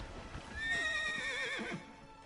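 A horse in Elder Scrolls Online gives a single loud, wavering whinny over the clatter of hooves, close and clear in the game audio with no talk.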